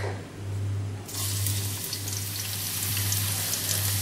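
Garlic dropped into hot oil for stir-fried noodles sets off a sudden loud, steady sizzle that swells from a quieter hiss and continues evenly to the end, with a low hum running underneath.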